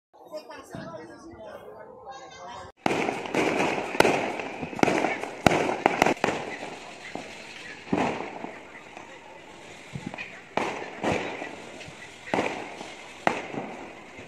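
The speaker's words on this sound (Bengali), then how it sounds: "এবং তারপর তারা বাজি ফাটাতে শুরু করে দেয়।" Firecrackers from a rooftop celebration after Kali Puja go off in a long run of sharp, irregular bangs, some close and loud, others fainter, with a voice talking at the start and chatter in the background.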